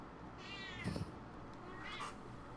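A cat meows twice, faint and close, the first call longer and rising, the second shorter, against a quiet indoor room tone.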